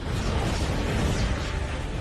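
A dense, sustained roaring rumble from an explosion in an animated fantasy martial-arts story, loud and steady throughout with broad crackling noise and no voices.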